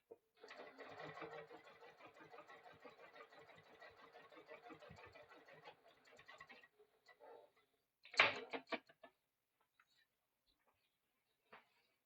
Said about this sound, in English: knock my stitch length up because it's a basting stitch, and just close off the raw edges